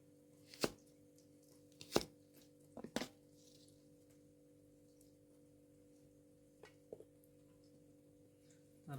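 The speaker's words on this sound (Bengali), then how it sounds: "পিস পিস করে নেব।" Knife chopping food into pieces on a board, a few sharp isolated chops spaced irregularly over a quiet background with a steady low hum.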